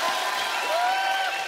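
Audience applause greets Akshay Kumar's stage entrance on an Independence Day-themed show: dense, steady clapping fills the whole moment at an even level, with a thin sustained tone gliding through it.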